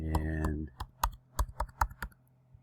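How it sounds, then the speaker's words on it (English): Computer keyboard typing as login details are entered, a short burst of separate key clicks at an uneven pace, close and fairly quiet, following a brief stretch of voice at the start. "you can type in your credentials here"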